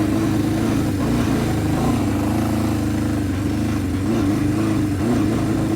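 Engine of a 1978 Honda CB550K motorcycle starved of fuel, its low loud idle surging and dipping unevenly as it sputters, close and continuous with no talking.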